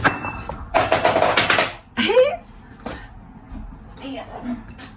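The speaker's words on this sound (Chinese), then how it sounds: "没拿住，盘子太重了，没拿住。" A heavy plate slips from a hand at a nail-art painting desk, giving a sharp clattering knock, then a second thud and scrape a moment later, followed by quieter handling noises and a voice talking.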